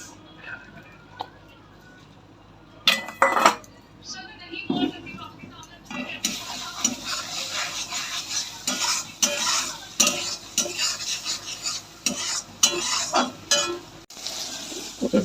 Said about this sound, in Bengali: ডিমটা ভুজিয়া করে নেব।